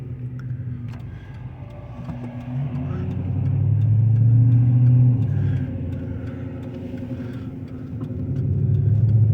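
A supercharged 2003 Infiniti Q45 Premium engine drones while driving, a low rumble that swells twice as it pulls harder, with road noise and a voice talking over it.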